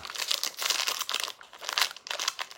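Crinkly plastic wrapper of a Snickers protein bar is torn and pulled open in quick, close crackling bursts, with no talk over it.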